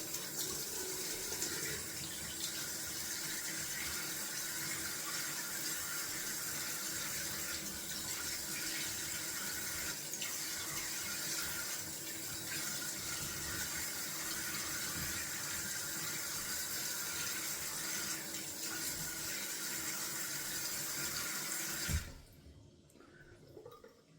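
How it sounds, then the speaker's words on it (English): A bathroom tap runs cold water in a steady, full rush for about twenty seconds during a shaving rinse, then shuts off abruptly. "Going down for cold water rinse."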